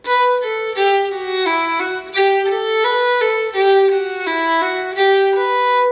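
Fiddle plays a smooth, slurred reel line with notes gliding into one another in a lively, grooving rhythm, close and clear, with no talking.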